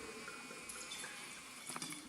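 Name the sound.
red Amarone wine being poured into a glass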